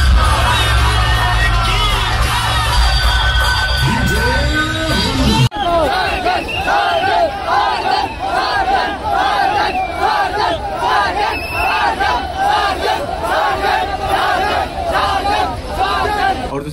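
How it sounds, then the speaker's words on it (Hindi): A large crowd at a Kawad Yatra DJ competition yells and cheers continuously, loud and dense, with booming music under the first few seconds before massed shouting takes over. "लोग ज्यादातर सार्जन चिल्ला रहे थे"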